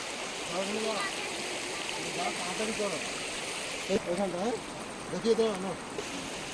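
A river rushes past a temple set in forest, a steady moderate watery wash under the voices of people talking throughout.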